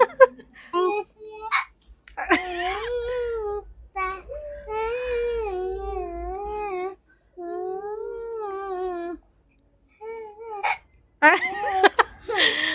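A young girl, sitting with a group between rounds of a sung guessing game, keeps hiccuping: sharp, close bursts broken up by her singing and by other voices talking and laughing.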